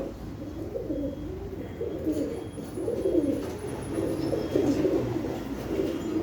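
Many pigeons cooing together at a bird market in Kurumbur, where pigeons, guinea fowl, turkeys and chickens are sold. The cooing is steady, layered and continuous throughout, set close over a low background murmur.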